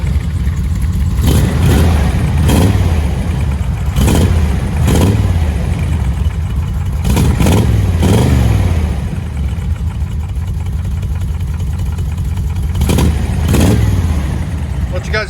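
Straight-piped true dual exhaust with long tube headers on a 1984 G10 van barks through a series of sharp throttle blips over a rumbling idle, loud and close, with voices talking in between the revs.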